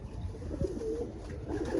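Soft, low cooing of racing pigeons in the loft, a few brief murmured calls over a muffled background, fairly close and quiet.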